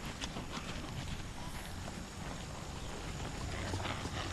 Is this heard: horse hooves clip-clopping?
yes